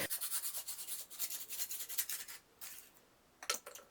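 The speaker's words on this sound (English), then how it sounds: "Just cut away any excess foam" A kitchen bread knife saws back and forth through excess cured expanding foam filler, giving a quiet, steady train of rasping strokes that pauses briefly before a few final cuts.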